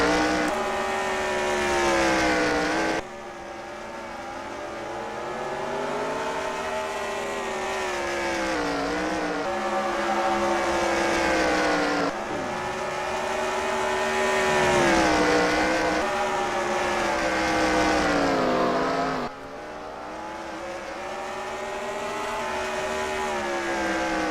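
Race car engines at Eldora Speedway drone and rev steadily for the whole stretch, pitch rising and falling as cars circle the dirt oval, loud and continuous with no voices.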